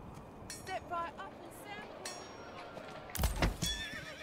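A horse in the Manor Lords video game, a clear neigh and whinny with clip-clopping hooves and a clinking burst near the end, while someone talks over it.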